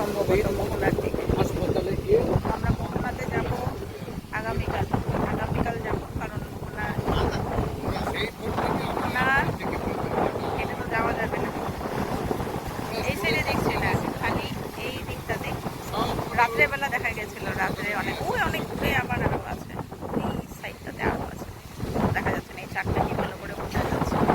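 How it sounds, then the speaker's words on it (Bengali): Trawler boat engines drone steadily over open water heading toward a river mouth near Digha, buffeted by heavy wind rumbling across the microphone, with a voice talking intermittently. "ট্রলার একটা দুটো তিনটে চারটে ট্রলার দেখা যাচ্ছে মোহনার দিকে যাচ্ছে"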